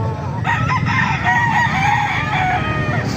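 A Lemon Sweater gamefowl rooster, about eight months old, crows loudly and close by at a market, one long drawn-out cock-a-doodle-doo over a low background murmur.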